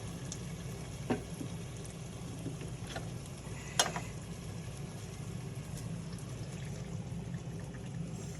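Pureed whole tomatoes go into a cooking pot for a meatball and baked ziti sauce, a soft continuous pouring and bubbling with a couple of brief clinks, heard close.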